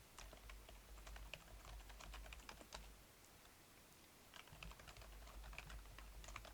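Rapid clicking keystrokes on a computer keyboard while code is typed, close and fairly quiet, coming in two busy bursts with a short lull between them.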